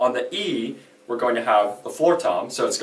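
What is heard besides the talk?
None of the usual background noises is heard.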